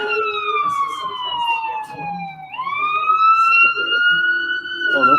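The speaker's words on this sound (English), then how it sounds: "Oh, those sirens are on your side." Wailing emergency sirens sweep down and then back up in pitch, loud and close and overlapping, with faint talk underneath.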